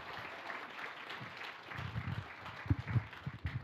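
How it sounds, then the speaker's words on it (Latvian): A comedy-night audience gives faint, scattered applause for a comedian stepping up, with the clapping growing a little towards the end. "Aplausi!"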